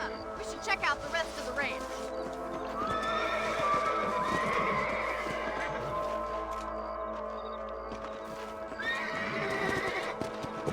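A horse in the Red Dead Redemption video game neighs and whinnies over clip-clopping hooves, with game music and ambient sound underneath and brief snorts near the end.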